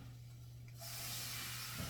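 A soft hiss rises from corn with butter as it steams, faint at first, then a louder, steady hiss over a low background hum.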